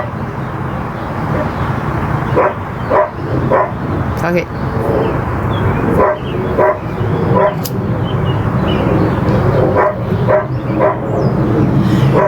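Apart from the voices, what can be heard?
dogs barking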